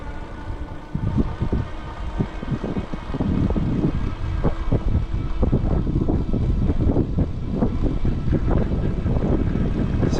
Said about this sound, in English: I'll let you listen to the motor now